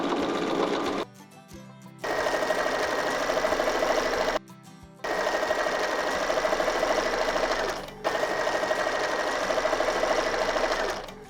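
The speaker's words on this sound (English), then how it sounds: "stitch the long curve" A sewing machine stitches a long curved seam on fabric for an oval loop-to-loop border design, running in three loud, steady mechanical stretches broken by brief stops.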